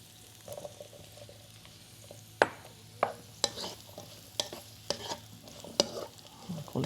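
Cauliflower and tofu are stir-fried in a pan. Sharp utensil clacks strike against the pan at irregular intervals over a low, continuous sizzle.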